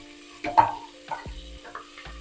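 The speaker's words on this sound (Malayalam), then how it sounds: "5 പച്ചമുളക്, പിന്നെ ഇഞ്ചി, ഉള്ളി, ഇതൊന്ന് നന്നായി ഒന്ന് വഴറ്റിയെടുക്കുക" Green chillies, ginger and onion being sautéed in a pan for vegetable pulao, heard as a couple of close scraping stirs over a soft sizzle in a short burst.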